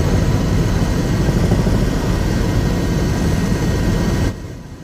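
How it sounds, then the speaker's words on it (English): A news helicopter's rotor and engine give a loud, constant low rumble and roar that fills the clip without a break, then drops away abruptly near the end. "need to make him turn down the helicopter noise just a little bit"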